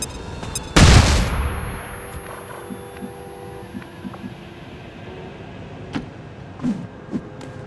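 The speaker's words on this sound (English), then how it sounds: "Flashbang!" Flashbang grenade detonating in the video game XCOM 2: one sudden loud broadband blast that decays over about a second, then quieter game ambience with a few scattered sharp pops and thuds.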